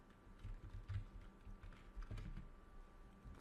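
A computer keyboard is typed on with a quick, uneven patter of soft key clicks, quiet and close, with no voices.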